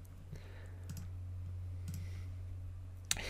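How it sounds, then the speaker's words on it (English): A computer mouse clicks a few times, sparse and faint, over a steady low electrical hum with no talking. "click the email templates link on the left-hand menu and then click the new template button"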